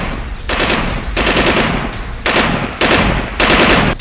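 Bursts of automatic rifle fire, loud and close, in several sustained rapid volleys separated by short pauses.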